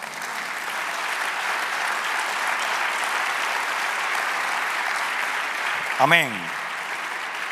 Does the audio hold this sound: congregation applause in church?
yes